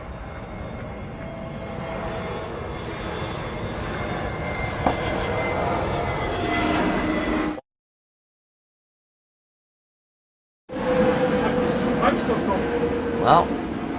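A Qatar Airways airliner flies over a cricket ground, its broad engine roar steady and fairly loud. The roar cuts to silence partway through, then returns along with crowd noise and commentary.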